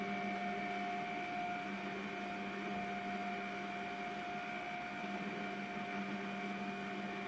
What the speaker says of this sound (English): allow the stand mixer to go for a few seconds or until you see that fully incorporate